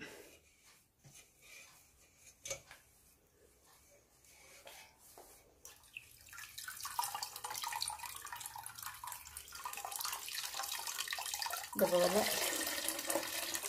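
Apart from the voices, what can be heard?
squeezing liquid from a cloth bundle of wheat for rose apple wine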